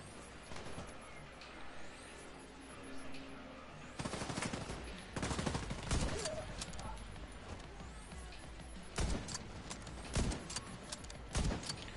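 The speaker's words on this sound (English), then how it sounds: "Who's that AI shooting at?" Bursts of gunfire from computer-controlled enemies in a shooter game's urban mission, with sharp clustered shots and rapid volleys recurring through the clip, loud and fairly close, over a steady background rumble, with a voice talking at times.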